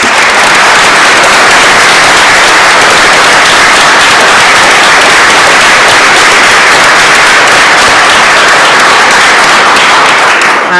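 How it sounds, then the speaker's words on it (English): A dense, steady wash of audience applause fills the whole stretch for two justices at a panel of women judges, loud and unbroken with no voices over it. "I would like to have a round of applause for Justice Cowan and Justice Drebin"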